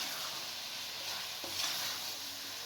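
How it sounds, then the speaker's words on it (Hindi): Okra and minced meat being stirred together in a frying pan for dhaba-style bhindi keema, giving a steady close sizzle with soft scraping of the spoon throughout. "अब भिंडी और कीमे को अच्छे तरीके से मिक्स कर लें।"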